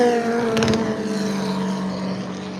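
McLaren race car at Le Mans during a night session, passing trackside with a sharp engine burst early on, then a steady fading drone as it moves away.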